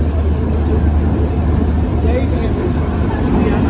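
A train at Siliguri junction rumbles loudly and continuously, with a thin, high wheel squeal running through it, close and dense throughout.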